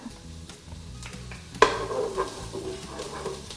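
Onion and garlic sauté in a hot pan, a steady soft sizzle broken by a sharp clatter as the garlic goes in, followed by crackling and faint stirring scrapes up close.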